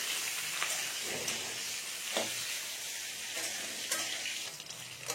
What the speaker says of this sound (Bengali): একটু গ্যাসটা হালকা জোর রেখে আমি এটা ভেজে নিচ্ছি